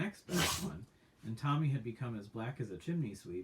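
A single sudden sneeze bursts out, and a voice then goes on reading aloud from Astrid Lindgren's Pippi Longstocking.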